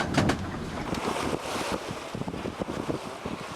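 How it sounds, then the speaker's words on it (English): A sailboat under full plain sail moves through open sea off northern Scotland, with steady wind rush and buffeting over the water and waves splashing along the hull. "Sailing well, all plain sail set, as it has been just about since we left Lewis."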